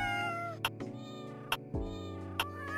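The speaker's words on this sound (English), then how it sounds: "does lots of different meows" A Catnap character in a video game gives a series of varied meows, drawn-out and wavering, with sharp clicking ticks spaced between the calls, heard close and alone.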